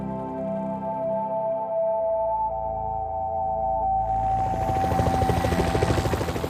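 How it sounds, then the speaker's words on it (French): A low mechanical drone with steady tones builds into the rapid, rhythmic chop of helicopter rotors growing louder toward the end, in Sinjar. "L'hélicoptère est le dernier lien qui relie le Sinjar au monde extérieur."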